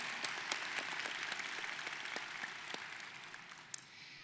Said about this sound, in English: Let's give one more round of applause for all of our dignitaries on stage tonight.